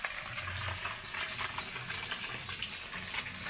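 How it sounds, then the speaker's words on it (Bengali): Potatoes and stalks frying in a wok after fish, giving a steady, close hiss of sizzling oil that runs throughout with faint stirring clatter and no talk. "এবার আমি আলুটা ভাজতে দিয়ে দিয়েছি, আলুর সঙ্গে ডাঁটাটাও তুলে দেবো।"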